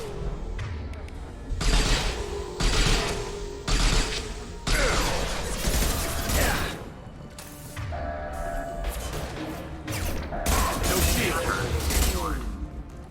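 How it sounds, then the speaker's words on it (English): Large metal shutters close in the video game Mass Effect 2, a series of heavy mechanical clanks and ratcheting grinds in bursts, mixed with gunfire-like impacts and game effects. "Find the large shutters and seal them."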